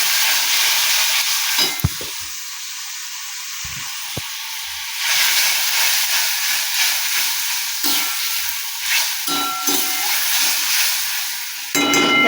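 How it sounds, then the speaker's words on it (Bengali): Spice paste stir-fried in a pan after a splash of water is added, giving a steady close sizzle and hiss with occasional scraping stirs throughout. "আমি বাটিটা ধুয়ে একটু জলটা দিয়ে দিলাম মশলাটা কষিয়ে নেওয়ার জন্য।"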